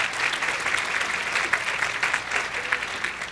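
An audience claps steadily for Jill at a healthcare speaker's talk, with dense, even applause filling the room and a faint voice underneath.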